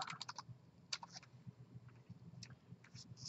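Typing on a computer keyboard: clusters of quick, close key clicks in short bursts with brief pauses, quiet and alone over a faint low room hum.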